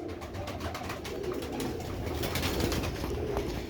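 A strong Kora pigeon among a flock of other pigeons, with low cooing running continuously under a dense, busy rustle of birds nearby.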